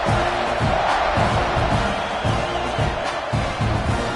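Stadium crowd in the NCAA 26 college football video game roars and cheers continuously at a loud level, with an announcer talking over the din.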